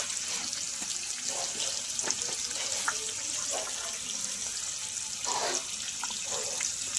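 Thinly sliced potatoes frying with salt, turmeric and slit green chillies make a steady broadband sizzle with light crackles and occasional stirring clinks, close and continuous throughout.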